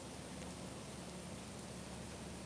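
Rain falls steadily on the deck of the cruise ship Azamara Quest in Port Vendres, France, a faint, even hiss of drops with no talking.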